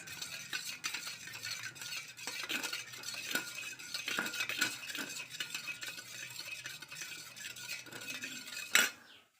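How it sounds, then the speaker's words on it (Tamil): A metal spoon stirs coffee powder and sugar together in a cup or bowl for a homemade cake batter, a steady rhythmic scraping and clinking with a sharper knock near the end, close and alone. "நல்லா அந்த காஃபி தூளையும் சீனியும் நல்லா கலக்கிங்க ஃப்ரெண்ட்ஸ்"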